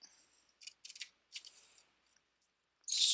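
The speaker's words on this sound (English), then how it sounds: "for this one I'm going to use my scissors" Scissors snip through paper to cut strips, several crisp close-up cuts in irregular bursts with quiet gaps, ending in a louder rustle of paper.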